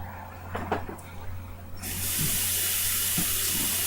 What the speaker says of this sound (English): Can you wash that? Just run hot.